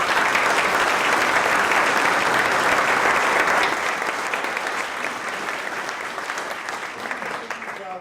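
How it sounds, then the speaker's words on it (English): Sustained audience applause fills a room at the close of a regional advanced manufacturing panel event, loud and dense at first, then thinning and fading gradually over several seconds. "I want to give a round of applause"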